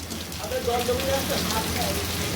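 Heavy rain falls steadily in a dense hiss on surfaces close by, with a voice faintly audible underneath.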